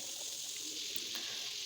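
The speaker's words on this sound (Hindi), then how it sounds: "फिर उसमें हमने लहसुन अदरक का पेस्ट डाल देना है।" Garlic and ginger paste frying in hot oil gives a steady, close hiss and sizzle with faint stirring, no talking over it.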